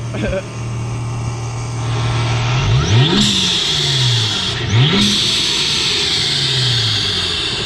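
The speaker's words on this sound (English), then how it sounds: "you're gonna rev it so we can hear the blow off valve" A RIPP supercharged 3.6L Chrysler 300 engine revs hard several times, rising and falling in pitch, with a hissing whoosh of the blow-off valve after the revs, under loud broadband noise.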